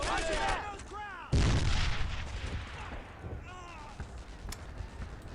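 Gunfire rings out in the World War II video game Brothers in Arms: Earned in Blood, with one heavy close shot followed by scattered rifle reports, while voices shout in the background.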